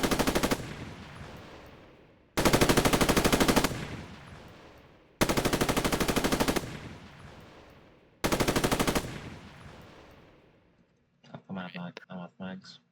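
Machine gun in a Roblox milsim game fires four sustained automatic bursts of about one to one and a half seconds each, loud and close, with short pauses between them. Brief speech follows at the end.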